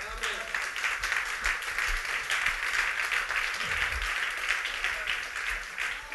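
A church congregation applauds and cheers together during a worship service, a steady, full-room clapping that holds evenly throughout with voices mixed into the crowd noise.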